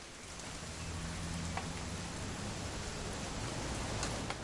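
Rain falls steadily in the game What Remains of Edith Finch, a continuous even hiss with soft patters on surfaces that holds constant throughout, with no voices.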